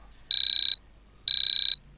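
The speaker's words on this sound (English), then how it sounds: "you can expect a alarm tone to get played" Alarm tone from a JavaScript alarm clock in a web browser: two loud, even electronic beeps at a high pitch, each lasting about half a second with a pause between, on a silent background.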